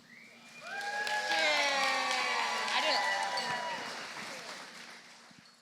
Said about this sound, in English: Let's get a big round of applause for Sterling, everybody